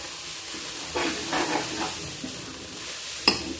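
Water drying off in a hot cooking pan on a gas stove gives a steady, faint crackling sizzle, with a few louder bursts of stirring and one sharp click near the end, and no voices.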